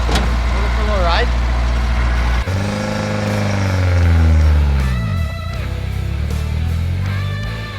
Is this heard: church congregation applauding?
no